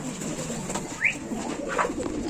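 Pigeons coo softly in a steady outdoor background, a couple of low calls rising over a faint hum.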